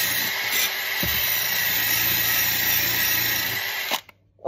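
A handheld power tool with a rotary attachment cleans rust off an old trowel, producing a steady, close, high whine and grinding buzz for about four seconds before cutting out.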